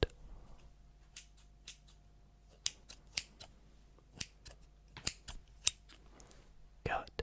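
Scissors snip through a piece of string tied at both ends in a quiet close-up setting, a handful of crisp, sharp cuts spaced irregularly, with soft handling noises between them.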